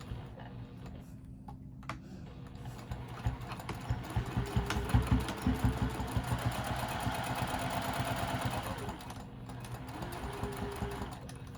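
A sewing machine stitches a quarter-inch seam on a patchwork bag with a zipper pocket, a close rapid mechanical chatter that speeds up, runs steadily, then slows and pauses briefly before resuming.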